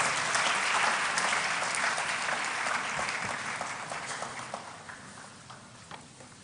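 Audience at a pharmacy faculty white coat ceremony applauding a professor's welcome, a full round of clapping that starts strong and gradually thins to scattered individual claps as it fades out.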